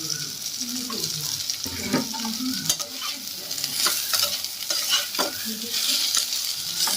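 Green beans with green and red chillies, salt and turmeric are stirred and fried in a pan, giving a constant close sizzle broken by repeated spatula scrapes and clinks of metal.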